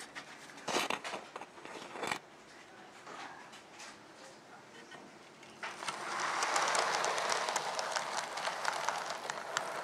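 A coal-fired model steam locomotive runs on a garden railway: a few sharp knocks and clatter at first, then from about six seconds a steady, fairly close hissing chuff of steam that continues to the end.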